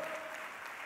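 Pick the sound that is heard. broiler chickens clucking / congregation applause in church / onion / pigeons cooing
congregation applause in church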